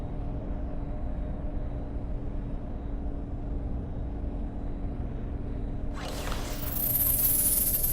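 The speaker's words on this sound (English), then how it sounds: "That button should shut down my containment field." In the Mass Effect video game, a containment field shuts down with a low steady mechanical hum followed by a rising hissing whoosh near the end, with no talk.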